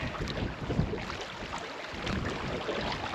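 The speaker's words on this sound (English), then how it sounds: "Wind has picked up again." Steady wind roars across a lake in the Canadian wilderness on a canoe trip, a broad, continuous rush buffeting the microphone with no letup, loud and close throughout.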